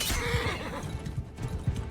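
A horse whinnies loudly up close in the game Mount and Blade 2: Bannerlord, a shrill rising cry that trails off, with scattered hoof thuds and battle clatter underneath.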